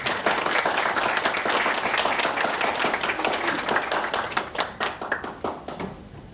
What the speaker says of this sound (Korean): 정태 목사님 앞으로 나오실 때 우리 환호에 그리고 뜨거운 박수로 맞으시면